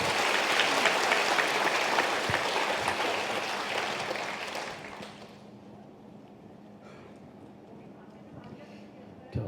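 A meeting hall of housing cooperative members breaks into loud, dense applause that holds for several seconds before fading to quiet room tone.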